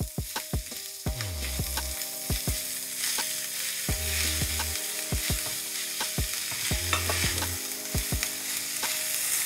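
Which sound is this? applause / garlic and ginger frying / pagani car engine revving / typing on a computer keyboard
garlic and ginger frying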